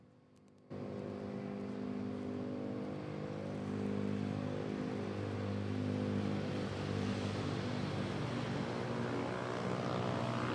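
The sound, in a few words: Singapore Airlines airliner arriving at Manila Airport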